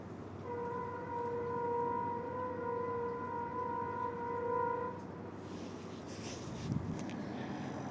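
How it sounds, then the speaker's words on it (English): Emergency horn of an MP40PH locomotive hauling a GO train, a steady multi-tone blast held for about five seconds over distant rumble, then cut off leaving faint rail noise. "So it sound like emergency horn to me."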